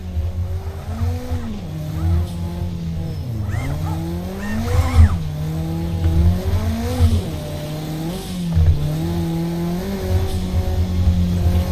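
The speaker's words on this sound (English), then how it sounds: "I tried to accelerate from second, and the car literally would not Just move." Race car engine in a racing video game straining to accelerate from second gear and bogging down, a steady droning rev that rises and sags repeatedly, with tire squeal mixed in throughout.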